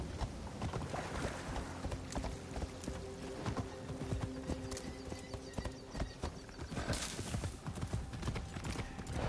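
A horse gallops in Assassin's Creed Shadows with loud, steady clip-clop hoofbeats on a dirt road that carry on throughout.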